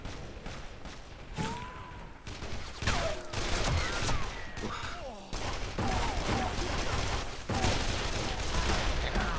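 Bursts of gunfire from the Call of Juarez: The Cartel video game during a co-op desert level, with repeated shots and impacts running through the whole stretch and brief voices over the action.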